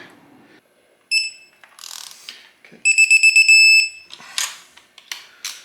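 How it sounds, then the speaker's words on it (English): Torque wrench ratcheting as it tightens a spark plug on a 2016 Triumph Bonneville T120 into an aluminum head, crisp rapid clicking bursts and a beeping tone nearby, with scattered handling clatter in between. "Time to get the torque wrench out and tighten the spark plug."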